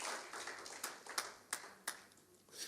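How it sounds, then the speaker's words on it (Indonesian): A church congregation at a Sunday morning service claps in scattered, uneven bursts, a few sharp louder claps standing out over a quiet room for just under three seconds. "Tepuk tangan untuk Tuhan yang luar biasa."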